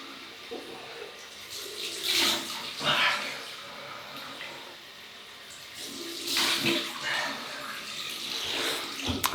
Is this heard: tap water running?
yes